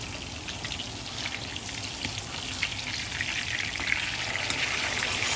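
Dominican pork chops fry in hot oil with a steady, fine sizzle and crackle, constant and close, with occasional sharper pops and no voices.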